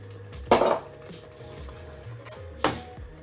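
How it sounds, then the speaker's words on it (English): A spoon stirring tomato paste stew in a metal pot, with two distinct scraping clinks about two seconds apart over a quiet kitchen background. "just keep stirring and you're about to see something"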